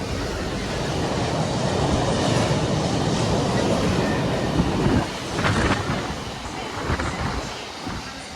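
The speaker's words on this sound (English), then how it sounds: "got a GBR F66 preparing to pass through" A Class 66 diesel freight locomotive rumbles past nearby through Warrington Bank Quay station, a continuous low roar with rhythmic rail clatter that swells and then slowly fades.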